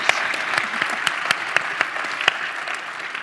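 A conference audience at the EmberConf 2018 closing keynote gives a round of applause, steady crowd clapping with a few sharper nearby claps standing out.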